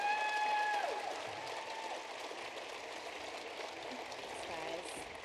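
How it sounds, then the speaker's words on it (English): A dense, even wash of applause from a crowd at a NASCAR event, faint and distant, holding steady throughout. "let's give a round of applause once again"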